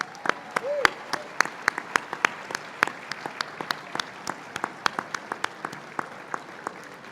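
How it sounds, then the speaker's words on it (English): A dinner audience at a Pride gala claps in a sparse, uneven patter of individual sharp hand claps, moderately close, with a brief voice early on. "Let's give them a big round of applause."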